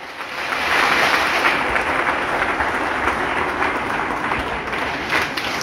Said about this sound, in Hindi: एक बार महिला शक्ति के लिए जोरदार ताली।